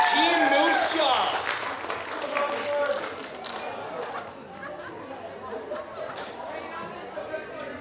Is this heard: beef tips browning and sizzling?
no